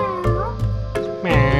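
A small kitten in Bali meows several times in quick succession, high-pitched and close, with a short pause between each cry.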